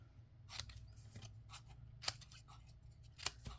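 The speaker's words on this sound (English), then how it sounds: "And then I can just go in and just kind of trim these at some fun angles" Scissors trim paper tags at angles for a Stampin' Up Garden Walk shadow box card. Quiet, close, crisp snips come in short irregular bursts, with no one talking.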